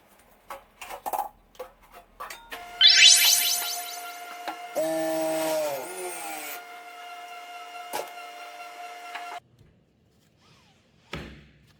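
A pressing machine compacts rice nuruk fermentation starter into shaped cakes with a grooved base, giving a run of clunks and knocks, then a loud sustained mechanical whine and hum for several seconds before stopping, with a final thud.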